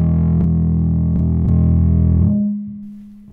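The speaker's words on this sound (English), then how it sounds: "Oh my god, there's so many options for overdrive." A bass guitar through the overdrive of a MOOER GE300 effects unit plays a sustained distorted note, with a few plucked attacks, then rings out and decays, loud and close.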